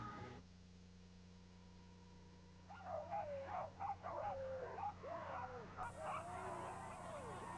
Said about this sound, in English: The 1990 John Bear Grease sled dog race got underway tonight in Duluth despite little snow.